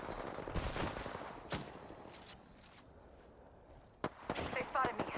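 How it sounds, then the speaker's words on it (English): Gunfire in the Apex Legends video game rings out as scattered, fairly faint shots and short volleys. Quieter gaps with footsteps separate them, and a cluster of sharper reports comes near the end. "They spotted me. I'm taking shots."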